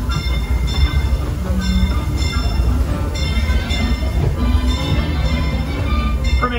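Disneyland Railroad train running toward Toontown Depot, a steady low rumble of wheels and carriages with faint bell-like ringing tones on top, continuous and close throughout with no talk.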